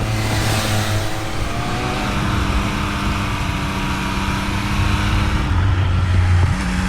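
Triumph Speed Triple 1200 RS motorcycle with its 180-horsepower triple engine, ridden on the road, droning steadily and loudly with a sustained engine hum and wind noise throughout, rising slightly near the end.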